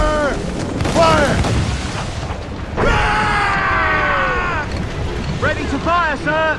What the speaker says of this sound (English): Cannon ready! Fire! Fire!